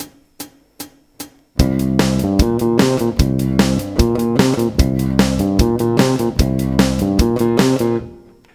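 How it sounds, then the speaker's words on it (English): A bass guitar riff played over a drum beat starts after four sharp count-in clicks, then runs as a loud, steady groove of repeating low notes and crisp hits to the end, with no talking. "And with the drum beat, it sounds like this."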